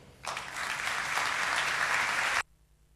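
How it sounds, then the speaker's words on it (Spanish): Applause from an audience at a panel discussion on social media, a dense, steady burst of clapping lasting about two seconds before stopping abruptly, fairly close and filling the room. "Un aplauso, por favor."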